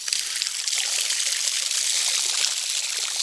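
Clean, unpolluted stream water on a farm in Maraú, Bahia, Brazil, trickling steadily with a bright, even hiss that runs without pause, close and moderately loud, with no voices.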